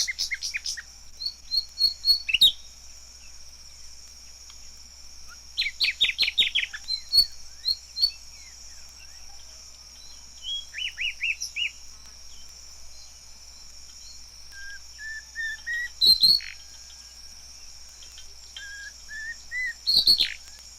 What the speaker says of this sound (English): here's the nightingale in the bush rather before sunset, singing away merry and undisturbed